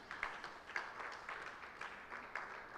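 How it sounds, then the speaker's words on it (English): Audience applause at a public lecture, a steady wash of many hands clapping with a few sharper bursts standing out, fairly distant and soft and continuing without a break. "please a round of applause for him"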